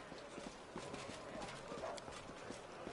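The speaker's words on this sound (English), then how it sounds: "A horse. Another horse." Horse hooves in the fantasy game Pathfinder: Wrath of the Righteous clop in a steady, continuous rhythm at moderate loudness against a dense background of game ambience.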